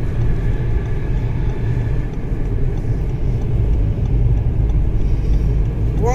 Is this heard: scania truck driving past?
yes